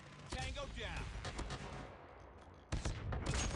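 Bursts of shotgun fire in the game CoD Mobile crackle in quick succession, with a brief pause before another loud volley, while a voice talks over the shooting.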